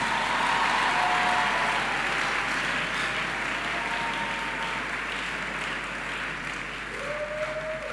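A church congregation at a worship service applauds in a dense, sustained wave of clapping that fills the room, with a faint tone drifting through it.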